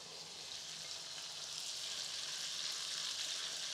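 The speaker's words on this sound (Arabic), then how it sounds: "نحط صدر تاع الدجاج ديالي باك هذيك التتبيله" Chicken breast coated in its marinade hits melted butter in a hot pan, giving a steady, loud broadband sizzle that holds evenly throughout without any talk.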